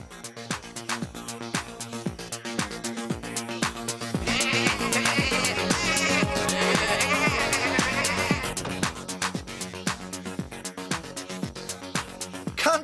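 Cartoon sheep bleat over a bouncy disco-style music track in a Tractor Tom episode, the bleats rising in a busy stretch midway while the beat keeps pulsing throughout.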